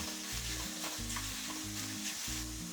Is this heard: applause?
no